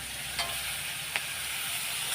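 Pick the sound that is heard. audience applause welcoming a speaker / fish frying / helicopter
fish frying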